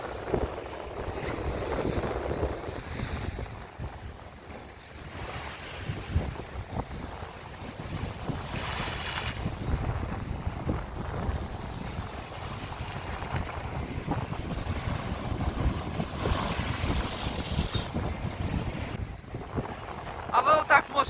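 Stormy sea waves roll and crash along the shore at Arcadia in Odesa, a steady broad rush with gusty wind buffeting the microphone and occasional louder surges, while a person talks intermittently over it.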